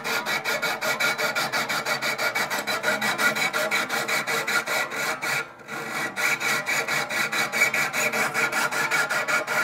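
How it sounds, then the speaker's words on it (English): Sandpaper is rubbed back and forth across the hard frets of an archtop guitar in a fast, steady rasping rhythm, close up, with one brief pause midway and no talking. "Now the frets are pretty hard to cut, and this kind of sandpaper, well, no sandpaper will hold up to it for very long."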